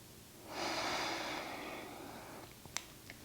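One long, deep breath during a pelvic floor exercise in a pregnancy physical therapy session, a soft airy exhale lasting about two seconds, close and quiet, followed by a couple of faint clicks.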